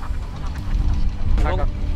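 Ducks from a flock of about 600, kept in an open field behind a net fence, give short quacks close by, mixed with a person talking.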